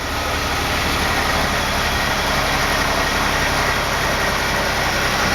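A Chevy 4.3 V6 fitted in a Series Land Rover idles steadily and loudly up close, a dense, even engine rumble with no talk over it.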